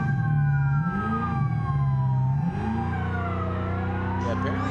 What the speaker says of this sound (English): Let's get our siren going.